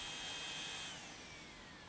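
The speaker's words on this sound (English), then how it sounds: "The drill is switched on and set to a slow speed." A power drill whirs steadily at a low speed while repairing a chip in a windshield, a continuous droning hum with a slight drop in pitch near the end.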